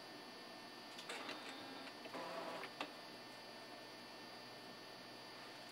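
An Epson printer whirs and ticks as it adjusts its inks before printing on a DVD, with a steady faint mechanical hum and a few brief clicks and rattles, no talking.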